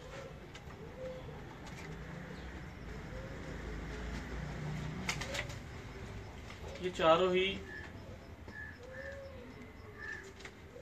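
Teddy pigeons of a bloodline stock cooing in soft low repeated calls, with a louder burst of cooing midway, under steady talk from a nearby man.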